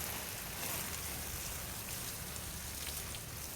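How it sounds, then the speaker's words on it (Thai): Morning watering of a home vegetable garden makes a faint, steady hiss of water spraying and pattering onto plants and soil, continuous and even throughout, with no talking. "รดผักตอนเช้านะคะทุกคนค่ะ"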